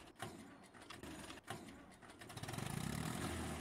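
Tractor engine starting in Farming Simulator, an old '60' tractor stuck in a ditch: a few sharp clunks, then rapid starter cranking that builds into a steady, close engine rumble.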